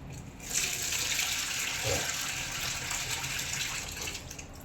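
Water from a mug pours steadily into a Bosch 15-place-setting dishwasher during its first fill, a continuous close splashing stream lasting a few seconds.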